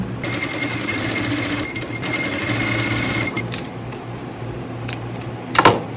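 A sewing machine stitches a folded dress hem in a rapid steady whir for about three seconds, then stops, followed by a few soft clicks and a brief sharp handling noise near the end.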